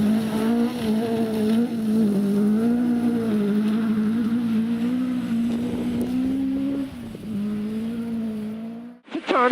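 On-board rally car at the DMACK Carlisle Stages, its engine droning loud and steady with shifting revs throughout, dipping briefly near the end before surging again.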